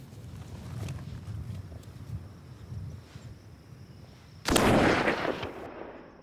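Rifle shot fired during a bison hunt on open ground, a single loud sharp blast breaking through steady wind and rumble, ringing briefly before fading.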